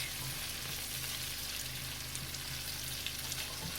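Vegetables browning in a pot for a pot roast give a steady, close sizzle and fry throughout, with a faint low hum underneath and no talking.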